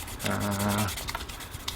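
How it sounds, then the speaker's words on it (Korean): A short burst of 400-grit sandpaper rubbing back and forth across a cork fishing float body, followed by a few lighter scratchy strokes. "전체적으로 예, 한번 사포가 딱 문질러 줍니다"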